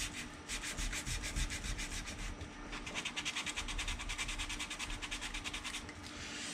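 Hand sanding of a small part on a 1:350 scale Polar Lights TOS Enterprise model kit, close rhythmic back-and-forth rubbing strokes, quickening toward the end, with no voices.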